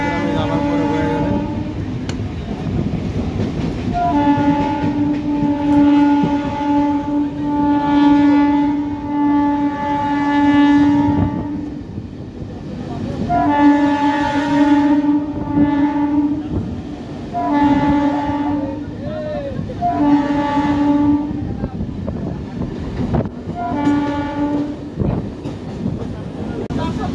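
A Howrah–Purulia local MEMU train runs along the line, its horn sounding in several long, loud blasts over a steady rolling rumble of wheels and carriages.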